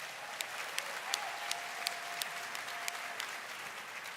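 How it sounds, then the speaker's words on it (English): Audience applause at the Roblox RDC 2023 developer conference, a steady, distant wash of clapping from a large crowd that holds evenly for a few seconds. "Can I get a round of applause for our devoted creators of assets and tools?"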